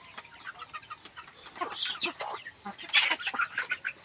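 Backyard chickens cluck in short, scattered bursts over a steady background hum, close by and moderately loud, with one sharper call near the end.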